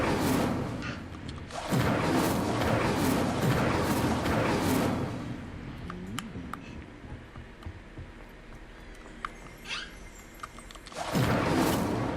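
Whooshing fire spell bursts cast in Hogwarts Legacy, a few loud flaring blasts with quieter ticking and clicking game sounds between them, no talk.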